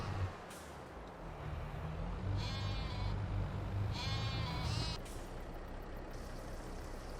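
Sheep bleat in Farming Simulator 22, a few harmonic calls clustered mid-clip over a steady low rumble of farm machinery, moderately loud.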